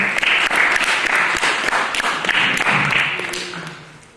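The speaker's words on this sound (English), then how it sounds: "Let's give it another big round of applause, ladies and gentlemen" Dense applause from an after-prom hypnotist show crowd, sustained and fairly loud, with many overlapping claps that gradually taper off toward the end.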